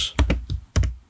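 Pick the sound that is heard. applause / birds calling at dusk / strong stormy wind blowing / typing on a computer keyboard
typing on a computer keyboard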